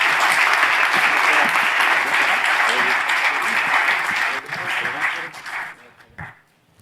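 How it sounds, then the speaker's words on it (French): An audience applauds student volunteers at a federation gathering, full steady clapping that thins out and dies away over the last couple of seconds. "je pense qu'on peut quand même les applaudir."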